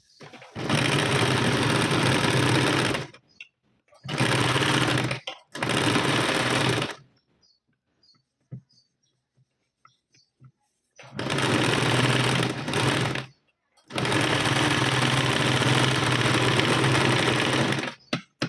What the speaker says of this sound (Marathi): आता मी इथे फिटिंगची शिलाई देऊन घेत आहे